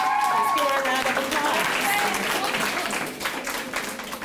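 A round of applause from a school audience at a Black History Month presentation, many hands clapping over faint musical tones, thinning out toward the end.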